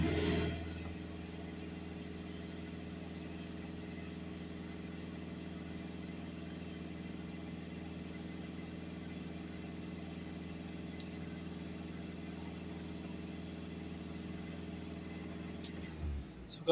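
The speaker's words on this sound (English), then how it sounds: "Let's rev it up, but it's not going to let us do full revs on this." A VW Crafter 2.0 TDI diesel engine with coolant pump and DPF faults idles with a steady low rumble throughout, close and fairly quiet, without clear rise in revs until a brief change at the very end.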